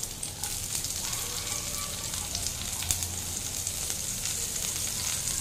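Chopped garlic and chillies sizzling in hot frying oil for a desi-style fish and chips recipe, a steady close crackle and hiss with occasional stirring noises and no talking.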